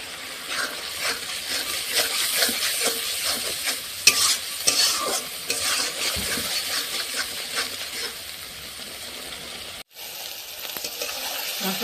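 Spice paste with salt and turmeric being stir-fried in a pan for a Bhola fish curry with coriander leaves, a continuous sizzle broken by frequent close spatula scrapes and clinks, with a brief drop in sound near the end.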